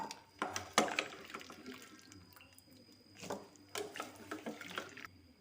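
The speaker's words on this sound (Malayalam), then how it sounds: "ഇനി നമുക്ക് കൂർക്ക ഊറ്റിയെടുക്കാം." Water is drained from pressure-cooked Chinese potatoes, heard as two soft bursts of pouring and splashing liquid separated by a quieter pause, fairly close and low in volume.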